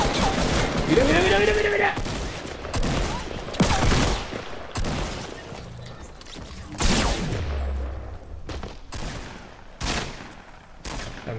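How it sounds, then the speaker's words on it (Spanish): Rapid Fortnite gunfire crackles in repeated sharp bursts and volleys, loud and close, with a tense voice shouting over the shots and a ringing electronic effect near the start. "¿Quién me está disparando?"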